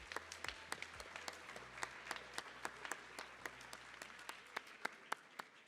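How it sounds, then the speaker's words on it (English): Applause for a student at a high school decision day event: sparse, distinct claps from a modest crowd, fairly quiet and steady across the whole stretch, with no voices over it. "So let's give a big round of applause for Astro."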